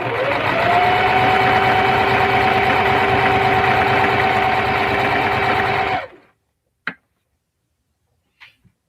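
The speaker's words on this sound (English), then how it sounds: "this is sewing in real time, so you can go slow or you can go fast" Sewing machine running a long steady seam on a small zipper coin pouch, loud and close for about six seconds, then stopping abruptly, followed by a couple of faint clicks in silence.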